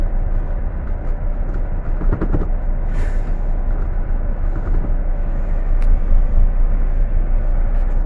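Idling engine of a truck loaded with fertilizer, parked and running steadily with a loud low rumble, a brief hiss midway and faint clicks, heard from inside the cab with no talking.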